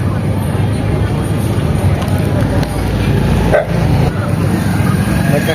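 A dog barks outdoors by a kebab shop during New Year festivities. The barks sit amid loud, steady road and vehicle noise, with people talking nearby.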